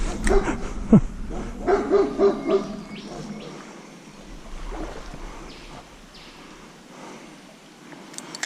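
A few distant dog barks in the first few seconds over a low rumbling riverside background, then quieter ambience with occasional faint sounds.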